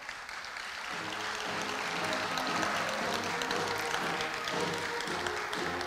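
Applause from a large audience at a Korea University anniversary ceremony, starting after a quiet second and then filling the hall as a steady, fairly distant wash of clapping.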